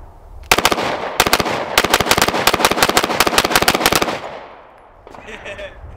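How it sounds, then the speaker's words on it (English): Glock 19X pistol fitted with a GFLEX binary trigger dumping a full magazine: rapid, loud cracking shots in fast bursts with brief pauses, then quiet with faint movement after the string ends. "A mag dump with the GFLEX. So binary trigger."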